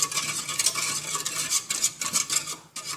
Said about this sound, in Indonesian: jangan lupa kita aduk sampai adonannya rata